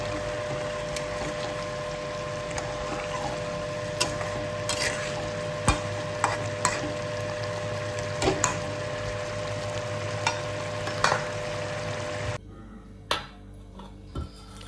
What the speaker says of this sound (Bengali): এখন ডিমগুলোকে গ্রেভির ভিতরে দেওয়া হলো বন্ধুরা।